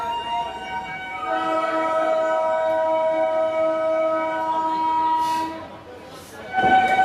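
A Howrah suburban local passenger train runs steadily with a continuous rumble. Long sustained horn-like tones ring over it, and the sound dips briefly before a louder burst near the end.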